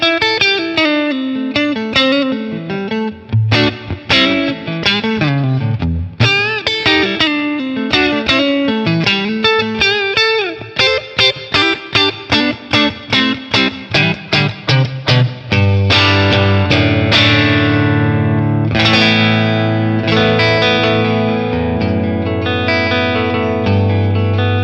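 Electric guitar on the neck pickup played through a Matchless Laurel Canyon ToneX capture with reverb added, ringing clean chords and single-note runs, then sustained strummed chords that swell loud and wash into a lingering reverb tail.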